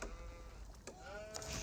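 Sheep bleats from the video game Age of Empires, a couple of short wavering animal calls in quick succession, fairly faint.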